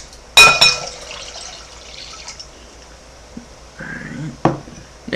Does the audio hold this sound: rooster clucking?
no